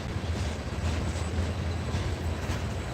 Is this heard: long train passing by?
yes